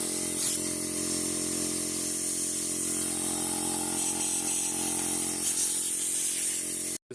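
Aerosol carburetor cleaner sprays steadily into the jet of a lawn mower carburetor that won't start, a loud continuous hiss running nearly unbroken for about seven seconds before cutting off abruptly.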